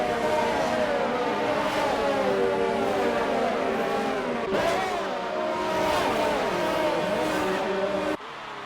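Two Toro race cars dueling closely on a track in an XRL racing sim, engines droning and shifting pitch together as they battle, steady and fairly loud throughout.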